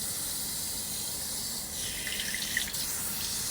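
Water rushing through a water-pressure tooth cleaner, a steady hiss like a running tap that holds evenly, with a faint sputter near the end and no talking.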